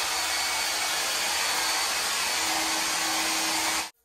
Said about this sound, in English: And now I can begin blow drying my hair without worrying that it'll be overheated